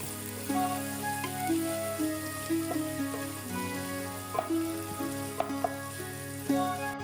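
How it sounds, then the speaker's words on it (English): Two large finely chopped onions sauté in a pan over a medium flame, a steady close sizzle with occasional stirring scrapes and small clicks, no voices. "Next, add 2 large finely chopped onions. Saute on medium flame for about 3 minutes until the onions change color."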